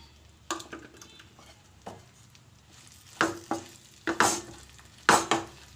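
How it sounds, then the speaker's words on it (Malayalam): Okra coated in gram flour and turmeric sautés in hot oil, a quiet sizzle broken by sharp stirring scrapes and clinks against the pan that grow stronger and more frequent toward the end. "എന്നിട്ട് നമ്മൾ മിക്സ് ചെയ്ത് വെച്ചിരുന്ന ഈ വെണ്ടയ്ക്ക അതിലേക്കിട്ട് നമുക്കൊന്ന് വഴറ്റിയെടുക്കാം."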